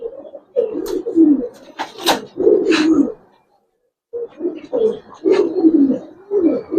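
Giribaz and coloured pigeons, including a black-necked pair, coo loudly and close in repeated bursts, with one clear pause midway before the throaty calls resume.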